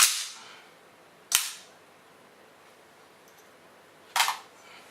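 A new magazine snaps into a PSL-54C rifle, giving three sharp metallic clacks spaced over a few seconds, close and loud with quiet gaps between.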